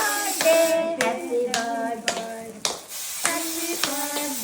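Hands clap in a steady beat, about one clap per second, crisp and close, over a melodic tune with voiced tones underneath.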